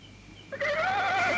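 A horse neighs suddenly after a quiet moment, letting out a loud, wavering whinny that carries on to the end.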